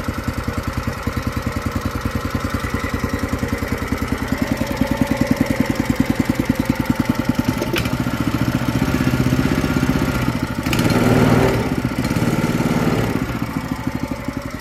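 A Briggs & Stratton CR950 engine on a hydraulic-assist track barrow runs steadily at idle, a close, loud, even chugging with a brief rise in revs near the end.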